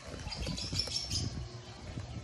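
Birds in bamboo outside a house flutter and flap their wings nearby, with a few faint chirps over a steady outdoor background.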